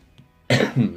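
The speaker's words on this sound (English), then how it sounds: "Sorry about my coughing there." A single harsh cough bursts out after a brief quiet pause, with a second rough push following right behind it, close and fairly loud.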